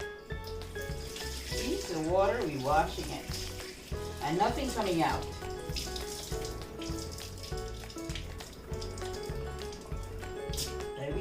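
Water swishing in a pot as rice is rinsed by hand before cooking, heard in splashy bursts under a person talking.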